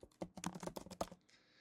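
Quick, light typing on a computer keyboard, a rapid run of about a dozen close, quiet key clicks in an irregular rhythm, ending in faint room hiss, with no talk.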